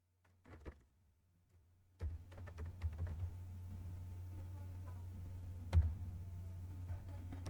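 Typing on a computer keyboard, a steady run of soft clicks over a constant low electrical hum, starting after a brief quiet moment and continuing to the end.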